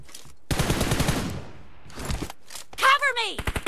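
Rapid automatic gunfire bursts in a shooter video game, sharp rattling volleys starting and stopping, with brief sound effects and people speaking between them.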